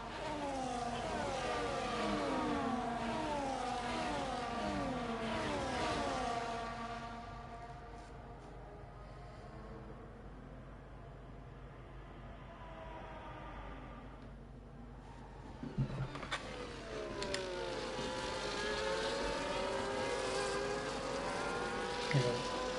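Several race cars circle a Saudi Arabia street track in a sim racing game, one sliding its rear tires to build heat, engines whining and shifting in overlapping sweeps that fade midway, then swell again as the pack accelerates.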